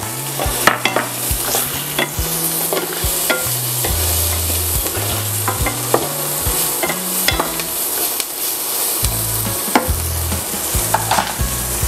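Onion and garlic fry in hot oil for pork humba. A steady, close sizzle runs throughout, broken by frequent scraping stirs and knocks of the utensil against the pan, with no talking.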